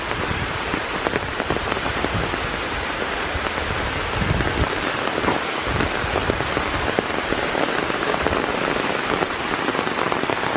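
Steady rain patters on leaves and ground along a forest trail in an Ohio River bluffs nature preserve, a dense, continuous hiss with no letup, close and loud throughout.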